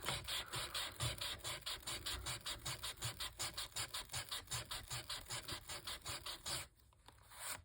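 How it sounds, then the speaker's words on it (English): Paper card is sanded to give its wallpaper a worn look, making a rhythmic rasping scrape of about three strokes per second that runs steadily up close, then pauses briefly near the end. "I'm just going to sand it so that it looks like some of the wallpaper is worn"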